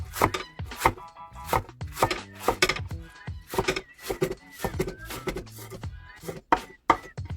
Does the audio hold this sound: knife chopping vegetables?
yes